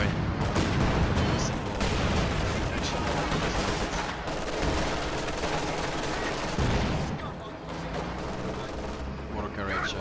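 Dense artillery and gunfire roar from a World War II strategy game with no letup, a thick mix of cannon booms and rattling shots layered over one another, loud and constant throughout.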